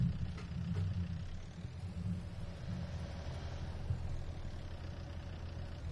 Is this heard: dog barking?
no